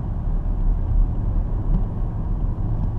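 A BMW X6 xDrive40i SUV driving on the road, heard from the cabin as a steady low engine and road rumble with no talking.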